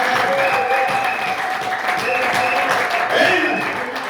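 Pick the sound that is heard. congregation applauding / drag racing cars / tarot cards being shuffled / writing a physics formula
congregation applauding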